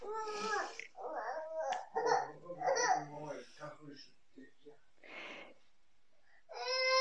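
A baby babbles and coos in bursts of little syllables and squeals, close and fairly clear, with short pauses between.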